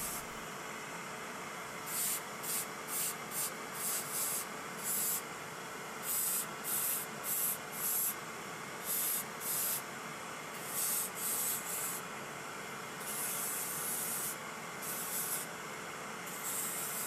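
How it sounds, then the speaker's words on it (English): A silicone polisher smoothing a finished acrylic denture, giving a steady hiss under repeated short, rhythmic rubbing bursts that come in clusters with brief gaps, close and fairly quiet, with no talking. "we can smooth it still further using a silicone polisher"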